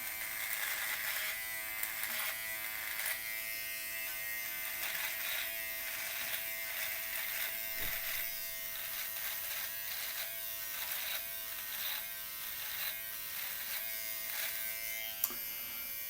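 A Xiaomi 3-in-1 electric trimmer buzzes steadily up close while shaving the neck, a continuous whirring drone with faint scraping pulses and a brief click near the end.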